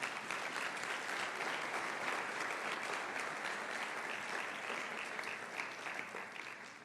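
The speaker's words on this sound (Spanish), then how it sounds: "Denle un aplauso a Jesús" A church congregation applauds, a dense, even wash of many hands clapping at moderate distance that holds steady and tapers slightly at the end.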